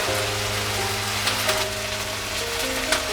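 Spice masala with garlic paste and cumin powder frying in a pan for an aloo chana curry, an even, close sizzle that holds steady throughout with a few faint ticks and no talking.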